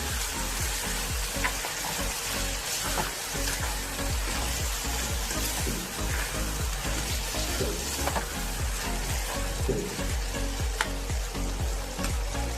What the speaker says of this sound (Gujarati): પછી તેને આવી રીતે બરાબર હલાવી લેવાનું।